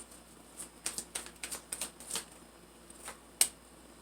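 Tarot cards are shuffled and drawn with soft, crisp flicks and taps scattered irregularly across a few seconds, faint and close, ending in one sharper snap.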